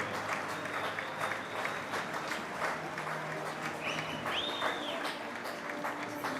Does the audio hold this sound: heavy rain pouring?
no